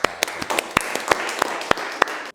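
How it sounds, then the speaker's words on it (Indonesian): Applause for a group in a university teaching session: a small crowd claps with sharp, uneven slaps standing out over a softer patter, close by, then cutting off abruptly. "Tepuk tangan buat kelompok."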